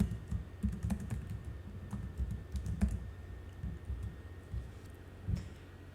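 Code is typed on a computer keyboard in quick, uneven bursts of close key clicks with short pauses between them. Nobody speaks.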